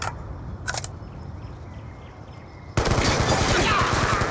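Gunfire in Black Ops II: a short crackle early, a quiet stretch of game ambience, then a sustained loud burst of rapid automatic fire that runs to the end.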